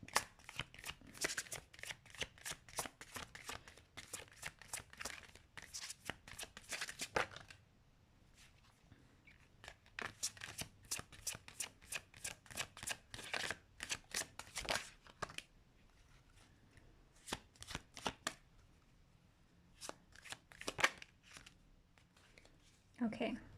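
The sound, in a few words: tarot cards being shuffled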